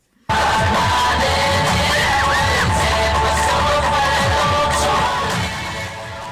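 A crowd at a community function yells, whoops and cheers loudly for a professional Samoan dance group, a dense sustained roar of voices and shouts that eases slightly near the end.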